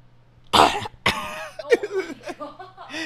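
A voice imitates coughing with two sharp, hoarse coughs, followed by throaty sputtering and brief vocal sounds, close and fairly loud.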